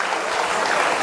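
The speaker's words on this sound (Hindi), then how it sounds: "जोरदार तालियां हर तरफ से हो जाएं।" Applause at a government rural development event in India, a dense and steady burst of clapping from a large crowd, loud and continuous throughout with no talk over it.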